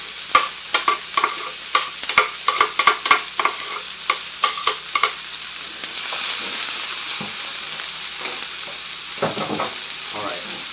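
Garlic sizzling in a hot pan for Puerto Rican picadillo, with a spoon scraping and stirring in quick irregular clacks over a steady frying hiss that settles into a smoother sizzle.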